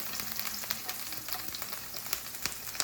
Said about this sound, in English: I'll cook the vegetables. Okay. So I start with my onion.